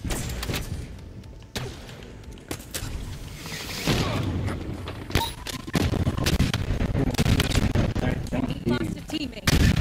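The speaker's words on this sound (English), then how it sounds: "to shoot that guy 3 times with a freaking sniper, bro." Gunfire in the video game Halo Infinite, sharp repeated sniper rifle shots and booming impacts over game noise, with players talking throughout.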